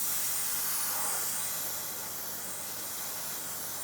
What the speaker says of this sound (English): I'll get some parts cleaner and clean up the area.